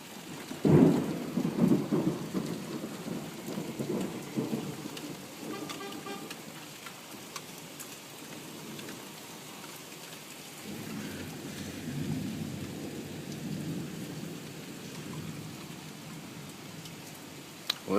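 Heavy thunderstorm outdoors, with a loud thunder rumble early on and rain pouring steadily on surfaces throughout, a second swell of rain and rumble later in the clip.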